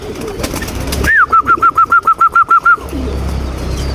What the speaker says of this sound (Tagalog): bumaba na nga din pala yung mga ibon na pinaronda natin